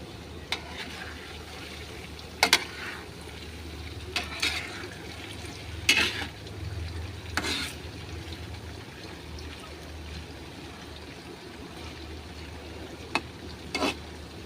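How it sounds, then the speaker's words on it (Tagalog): Tofu fries in a pan with a soft, steady sizzle, broken by a few sharp clinks of a utensil against the pan. "Prito ko na yung toko."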